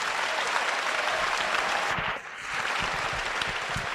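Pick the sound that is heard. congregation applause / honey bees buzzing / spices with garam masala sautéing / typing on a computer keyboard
congregation applause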